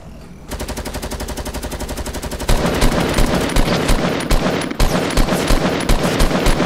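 Fortnite gunfire in a sustained automatic burst, a rapid steady rattle of shots that swells louder and denser partway through, with heavy overlapping reports continuing to the end and no talk.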